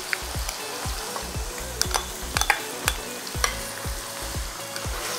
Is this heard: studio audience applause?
no